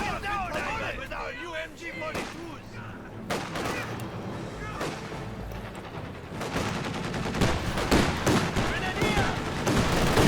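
Light machine gun fire rattles in a World War II strategy battle in Company of Heroes 2, with bursts of gunfire and distant impacts layered over a busy, continuous battlefield din.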